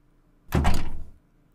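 A door rattles and thuds against its lock in the horror video game Ib, a single short, solid knock-like clunk lasting about half a second, alone against quiet.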